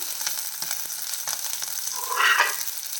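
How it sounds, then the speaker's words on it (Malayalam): Curry leaves sizzle in hot oil over a low flame while a curry is cooked, a steady close hiss that flares into a brighter crackle near the end, with no talking. "ഫ്ലെയിം കുറച്ച് വെച്ചാണ് ഇതിൻ്റെ കുറച്ച് കറിവേപ്പില ചേർക്കാം"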